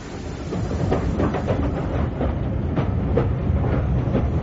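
A train at a station platform in a 2012 BBC Radio 4 James Bond drama, From Russia with Love, rumbles with low steady clatter and hiss. It is loud and continuous, with faint rhythmic clicks of wheels and no voices.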